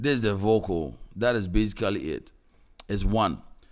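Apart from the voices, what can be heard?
No everyday noise stands out behind the speech.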